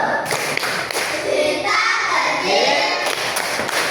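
A group of children in a primary classroom claps out a quick rhythmic clapping chant together, sharp, close hand claps repeating steadily for a few seconds.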